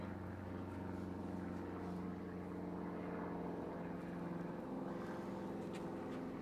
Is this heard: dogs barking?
no